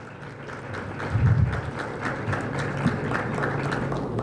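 An audience at a panel event in the Dominican Republic applauds to welcome the panelists: a steady, dense wash of clapping with no voices on top.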